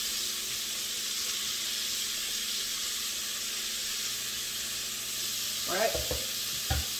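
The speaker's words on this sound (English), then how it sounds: "we are going to saute this until the bacon is rendered" Bacon, onions and potatoes sautéing in a pot, a steady close hiss of frying with a few clinks of stirring near the end and a brief spoken word.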